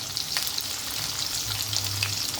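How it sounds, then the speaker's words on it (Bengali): Capsicum lightly frying in a pan for a milk paneer curry gives a steady, close sizzle with faint stirring, and no voices. "হালকা ভেজে নেবো"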